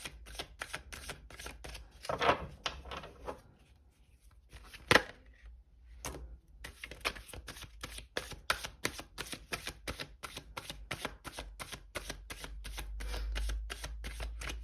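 Rapid, steady flicking and riffling of tarot cards being shuffled, a dense run of soft crisp clicks, fairly quiet and close, with no voices.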